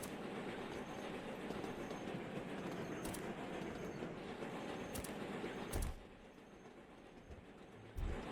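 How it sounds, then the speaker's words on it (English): Trains pull into a busy station in the railway-building video game Sweet Transit, running fast-forwarded: a continuous rolling rumble with clickety-clack, faint wheel squeals and a few sharp transient clicks, dropping quieter near the end. "Look at the trains coming in there,"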